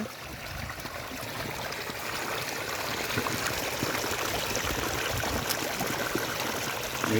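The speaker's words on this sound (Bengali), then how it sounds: "এই যে জলটা আসছে জলটা এখানে পড়ছে এদিক দিয়ে পেরিয়ে যাচ্ছে" Water flowing steadily and falling through a village fishing channel in Birbhum, a constant close rushing stream with splashing, growing slightly louder, no voices.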